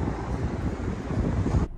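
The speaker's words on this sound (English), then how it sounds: "Look at the sand, y'all. That's how windy it is." Strong wind sweeping across a beach on Tybee Island, Georgia, roaring in a dense, continuous rush with a faint wash of surf underneath. It cuts off abruptly at the end, with no voices.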